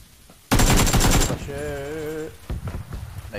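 Rapid automatic gunfire crackles loudly in a video game, a dense burst lasting under a second followed by a shorter tonal game sound and scattered quieter shots.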